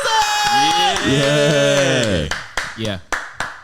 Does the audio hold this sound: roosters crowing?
no